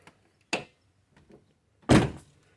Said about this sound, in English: door shuts real nice